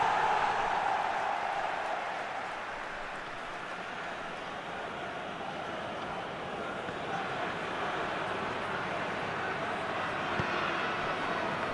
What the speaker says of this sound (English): Well, the crowd clearly like what they just saw.